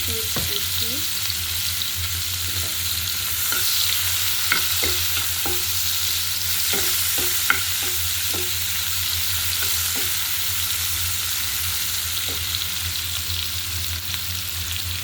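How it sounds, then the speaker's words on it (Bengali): Hilsa fish roe fries in a pan with a constant sizzle, broken by scattered clicks and scrapes of a utensil stirring, close and unbroken, with no voices. "সাথে আমি মাছগুলো ডিমগুলো ভেজে নিচ্ছি"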